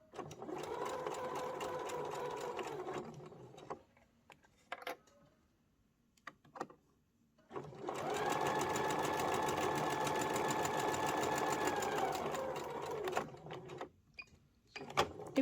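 Sewing machine running two long steady stitching bursts at 2.5 mm stitch length while sewing an Urban Fairy Georgia garment, separated by a quieter pause with brief handling clicks.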